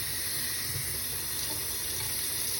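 Cold water runs and splashes over freshly cooked broccoli in a kitchen sink as it is drained, a steady close rushing flow with no voices.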